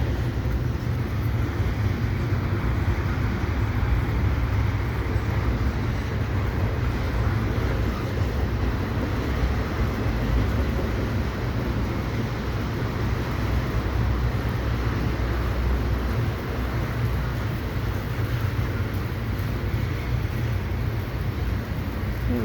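A CP intermodal freight train rolls steadily past in heavy rain in Montreal's West Island, a continuous broadband wash of wheel and rain noise holding level throughout with no voices.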